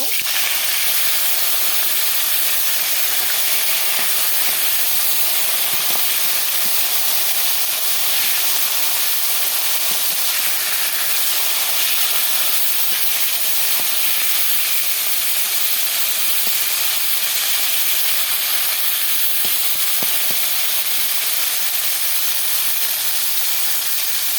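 Fish frying in hot oil in a home kitchen gives a steady, loud, hissing sizzle that holds evenly throughout, with occasional faint pops.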